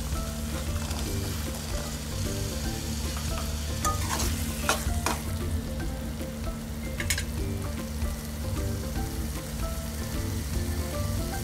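A ground masala paste sizzles and fries in a pan while being stirred for a Maharashtrian dry bombil dish, a steady close crackling hiss with occasional scraping stir sounds, no talking.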